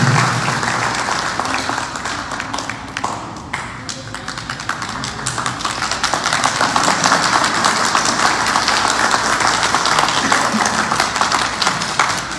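Sustained audience applause at a graduation ceremony for a higher technology degree in administration, dense and steady clapping from a large crowd that swells slightly louder in the second half.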